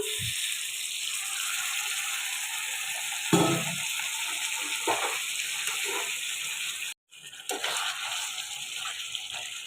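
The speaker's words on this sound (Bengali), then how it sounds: "এখন একটু জল দেব জলটা আমি বয়েল করে রেখেছিলাম" Boiled water poured into chicken curry in a pan, a steady close hiss and bubbling simmer with a few brief clatters of a utensil, continuous throughout.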